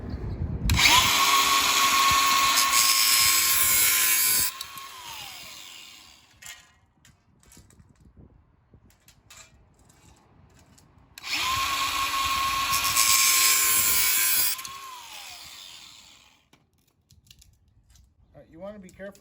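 A rotary tool fitted with a metal cutoff blade cuts through aluminum window screen frame in two loud, shrill bursts of whining grind, each about four seconds long, separated by quieter handling sounds.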